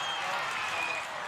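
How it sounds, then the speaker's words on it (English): A rugby league cheer squad claps at an NRL pre-season match between the Raiders and the Storm, a brief burst of crowd applause heard at a distance, filling the air without any clear voices. "it sounds like the Darmody cheer squad is going to clap him in"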